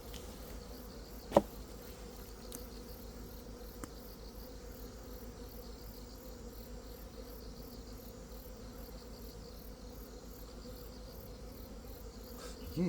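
Honeybees hum around their hive after hornets are cleared away, a faint, steady low drone with a few soft clicks and a brief tap.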